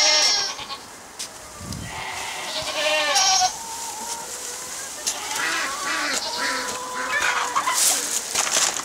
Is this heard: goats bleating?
yes